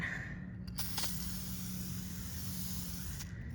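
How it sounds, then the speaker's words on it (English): A steady, close hiss of a spray paint aerosol can coating chairs, held continuously for several seconds with a brief clicky break partway through. "And yeah, you just spray it on."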